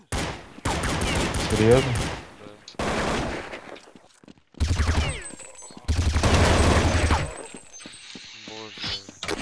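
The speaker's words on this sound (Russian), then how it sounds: "Они друг друга на базе стреляют." Bursts of automatic gunfire from a Counter-Strike match on the Inferno map, loud rapid volleys coming in several separate strings, with people talking over and between the shots.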